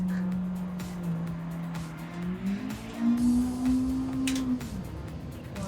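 Engine of an '87 Honda Civic EF with an engine swap, racing in Gran Turismo, drones steadily, dips as it shifts down, then climbs to a higher, louder whine before easing off, with faint tire noise behind it.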